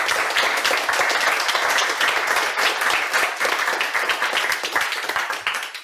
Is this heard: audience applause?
yes